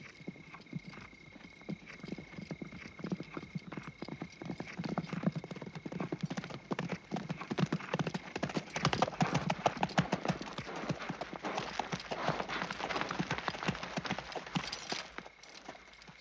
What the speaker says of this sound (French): Des centaines de chevaux.